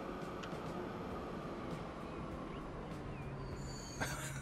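Rolling rumble of a tram passing over a small hump in the video game Transport Fever 2, a steady low rail noise with faint clanks, moderately loud and continuous, no talking.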